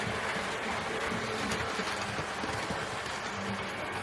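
A Hornby BR Class 2MT model steam locomotive, number 78006, runs along its track with a continuous, fairly loud rolling rumble and faint rhythmic clicking, steady throughout with no talk.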